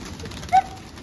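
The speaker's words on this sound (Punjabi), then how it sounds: "ਨਿਕਲੇ ਸਾਰੇ ਕਬੂਤਰ ਬਾਈ ਬਾਹਰ," Pigeons leaving their loft let out a single short, clear call midway, standing out above a quiet background murmur.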